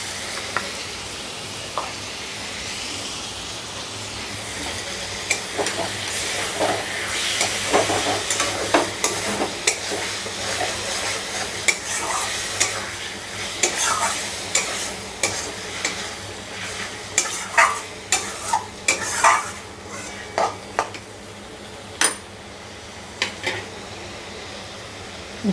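Loitta fish frying in a pan with cumin powder: a continuous sizzle under repeated sharp scrapes and taps of a spatula against the pan, the stirring growing busier and more rhythmic partway through, with no talking.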